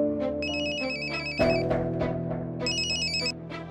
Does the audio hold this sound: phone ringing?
yes